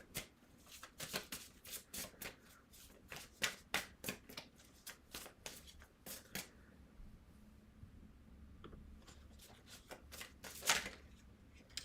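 Tarot cards are shuffled by hand in quick bursts of crisp riffling flutters, some sharp slaps between them, close and fairly quiet, with a brief pause near the end before a few more shuffles.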